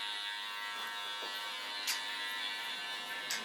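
Electric hair clippers buzz steadily and close while trimming around a man's hairline, with a constant high hum and small snips as the blades pass through hair.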